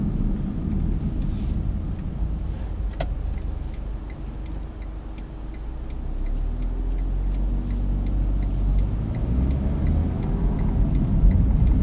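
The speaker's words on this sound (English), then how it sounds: "A rattle, but that's coming from the camera equipment." Light ticking rattle from camera equipment inside a 2012 Smart Fortwo Coupe Passion mhd Softouch, small repeated clicks over a steady low engine and road rumble heard from the cabin.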